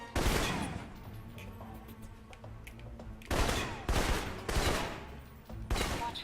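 Assault rifle gunfire in Alpha Protocol, one long burst followed by a run of shorter sharp volleys, loud and close with brief pauses between them.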